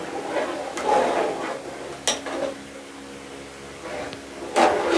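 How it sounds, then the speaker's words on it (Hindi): A spoon stirs rice and milk kheer in a cooking pot, with soft scraping and a few sharp metallic clinks against the pot. A low background hum runs underneath. "जब तक ये चावल हमारे पकना शुरू नहीं होते तब तक आपने चमचा हिलाते जाना"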